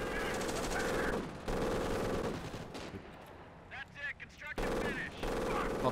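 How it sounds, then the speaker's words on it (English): Submachine guns fire in the Company of Heroes Blitzkrieg mod: dense, loud automatic bursts, then a quieter stretch of scattered distant shots before heavy firing resumes, with faint voices. "You've got submachine guns."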